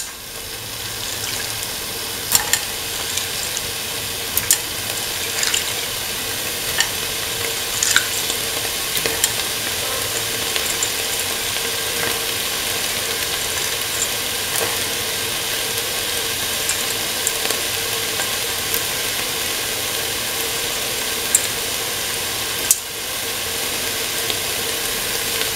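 Green peas sizzle steadily in a hot pan while being stirred, with a constant frying hiss and occasional soft scrapes and clicks of a utensil, no voices.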